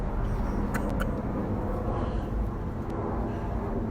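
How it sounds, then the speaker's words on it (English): Helicopter passing overhead outdoors, a steady broad rumbling drone with no voices. "Helicopter's looking for me."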